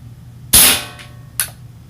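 Two sharp cracks of an air rifle firing pellets at a cluster of targets against a hard backstop, a loud close shot followed by a softer second one about a second later.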